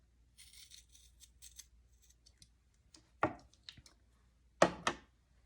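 Scissors snip through material being cut to shape for a woodwind mask for single and double reed instruments, with faint rustling handling first, then two loud close crisp cuts a second or so apart.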